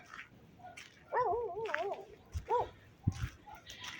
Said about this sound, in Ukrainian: І впереді собачки гавкають сусідські.